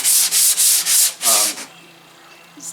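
Five quick back-and-forth hand-sanding strokes, without a sanding block, rasp loudly against a Mk4 Volkswagen Golf body panel, then stop, leaving a faint hum.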